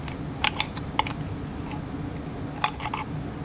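A washing machine drain pump turned by hand snaps back with a few faint, sharp clicks against a low background hum, sparse and irregular.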